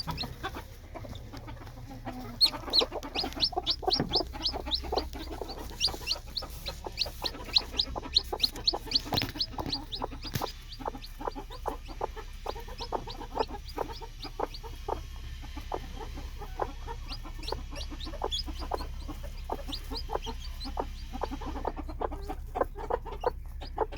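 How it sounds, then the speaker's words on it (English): Day-old chicks cheep rapidly and repeatedly near broody hens, a busy run of sharp, high peeps and clucks over a low farmyard hum, fairly close and continuing for a long stretch without talk. "I can hear a chick alarm calling"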